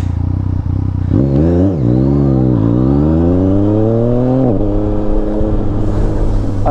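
A remapped 2023 Yamaha Tracer 900 GT motorcycle revs up loud and close through several rising gear pulls, the engine note climbing and dropping between shifts before easing off, with no talking.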